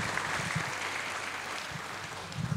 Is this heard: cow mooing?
no